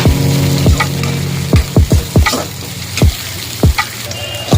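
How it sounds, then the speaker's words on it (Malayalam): Onion and curry leaves sauté in coconut oil, where a loud, close crackling sizzle is broken by several sharp spatula scrapes and knocks against the pan at an uneven pace. "ഉള്ളിയും കറിവേപ്പിലയും കൂടെ ചേർത്ത് കൊടുക്കാം. ഇതൊന്ന് നല്ലോണം വഴറ്റിയെടുക്കാം."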